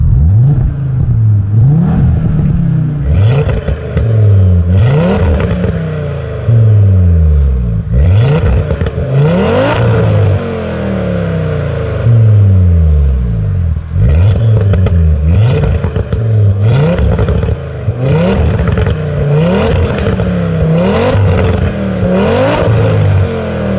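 A warm car engine revs loudly and repeatedly, rising and falling in pitch with crackling pops from the exhaust, close up and without talk.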